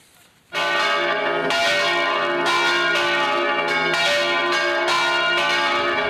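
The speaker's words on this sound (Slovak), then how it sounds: "V dnešný deň sa nad Trenčínom, tak ako inde v Európe, symbolicky rozozvučali zvony." Church bells peal over Trenčín at 11:11 in remembrance of victims of armed conflicts, a loud, sustained ringing with overlapping strikes after a brief quiet start, alone with no talk.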